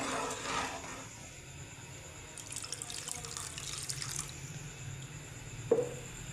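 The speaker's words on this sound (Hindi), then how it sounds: "पानी आप लोग अपनी पसंद का डालिएगा" Water runs steadily from a tap into a cooking pot of potato and egg shorba, a continuous splashing stream with a brief clatter near the end.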